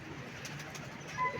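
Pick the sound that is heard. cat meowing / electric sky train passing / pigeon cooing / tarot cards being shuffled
pigeon cooing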